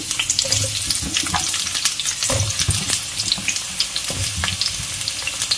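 Onions hit two spoons of hot oil in a pan and fry with a steady, close crackling sizzle, broken by occasional stirring clinks and bursts of spatter, no voices over it.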